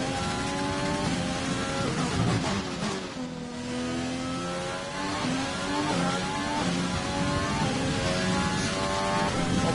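A race car engine in a racing video game roars continuously, its pitch climbing and dropping through the gears over a final lap, loud and sustained with a brief dip midway, and no voices.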